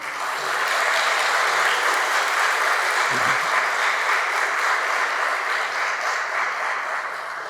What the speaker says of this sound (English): give them a big round of applause from you